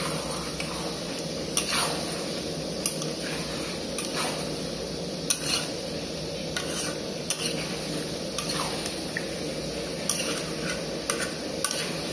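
A spoon stirs chicken and masala in a hot pan, with steady sizzling and periodic scrapes and clinks against the metal, close and continuous over about twelve seconds without talk.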